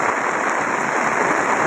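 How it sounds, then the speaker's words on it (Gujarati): A strong early-morning downpour in Rajula makes a steady, loud wash of noise with no pauses and nobody speaking. "જોઈ શકો છો લાઈવમાં વરસાદ."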